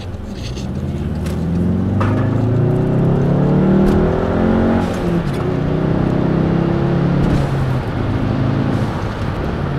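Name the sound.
2012 Volkswagen Jetta GLI MK6 accelerating with resonator delete exhaust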